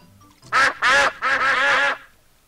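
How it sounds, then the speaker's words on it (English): Ducks in a Peppa Pig video game quack four times in quick succession, loud and close, with a brief pause after the second quack. "You fed all the ducks. And look, they have come to say thank you."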